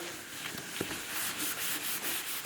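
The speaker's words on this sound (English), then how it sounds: "So need to sand the primer" Sanding epoxy primer on a car bumper, a faint, steady rubbing scratch repeated in short strokes with no talk.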